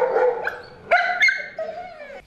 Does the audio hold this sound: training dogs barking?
yes